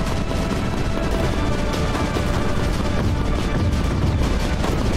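Cannon weapons firing in the strategy video game Creeper World 4, a dense, continuous barrage of booming shots and explosions layered with constant battle noise, loud throughout.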